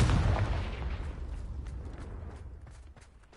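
A Confringo blasting curse from a Harry Potter video game explodes in one heavy, booming burst right at the start, then rumbles and fades away over a few seconds.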